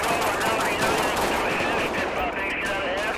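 Dense automatic gunfire rattles nonstop through a GTA 5 LSPDFR police shootout, loud and close, with bursts piling over one another for the whole stretch.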